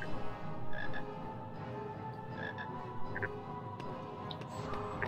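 A Chocolate Frog croaking in a Harry Potter video game, repeated faint chirpy croaks over a low game background with no talk.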